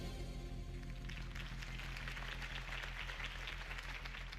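Crowd applause follows a political campaign speech in a video game, a steady wash of clapping under a low hum, moderately distant and even throughout without voices.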